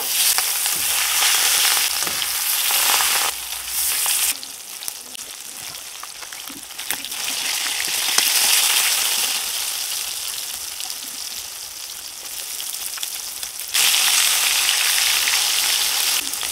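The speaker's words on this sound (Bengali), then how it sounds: "বাকি মাছগুলোও ভেজে নেব।" Pieces of turmeric-and-salt-coated fish fry in oil in a wok with a loud, continuous sizzle and crackle. The sound swells and dips in waves as the pieces are moved, and no voices are heard.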